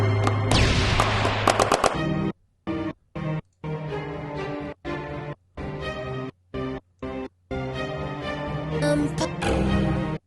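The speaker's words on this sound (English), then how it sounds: "Gunshot." Bursts of gunfire from an isolated stem of a song ring out loudly, with rapid shots separated by sharp silences, played through a sound system with a slight musical tone.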